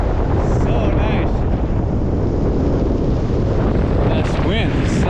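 Strong wind buffets the microphone beside a Rocky Mountain lake, a loud, continuous roar filling the whole stretch, with a faint voice briefly audible underneath.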